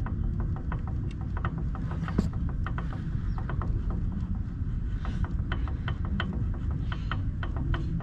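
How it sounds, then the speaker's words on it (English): A positraction differential on a 1998 car gives a faint, rapid run of light mechanical clicks and clacks in an irregular series over a steady low rumble. "That's the noise that we want. The click clack."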